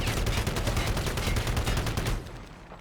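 Rapid, sustained automatic gunfire from a high-capacity weapon in Halo CE with the XAM mod, aboard the Pillar of Autumn: dense, loud rat-a-tat bursts that run unbroken for about two seconds and then cut off into a quieter tail.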